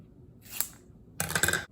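Scissors snip the end off a wooden toothpick, two short crisp cutting bursts about half a second apart, close and clear with no talk.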